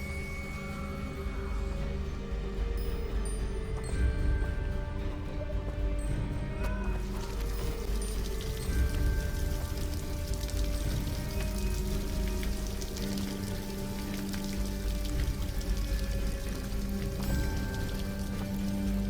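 A waterfall in Hogwarts Legacy gives a steady, broadband rushing roar, constant throughout with rain-like patter and a faint musical layer underneath.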